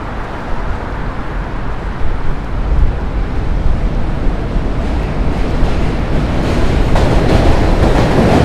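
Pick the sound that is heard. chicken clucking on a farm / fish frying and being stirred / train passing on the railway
train passing on the railway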